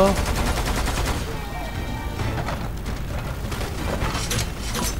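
Rocket launcher fire in the Lost Planet 2 video game, a loud burst of blasts and rattling weapon noise that fills the clip, with a rising whoosh near the end.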